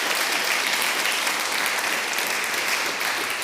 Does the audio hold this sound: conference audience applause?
yes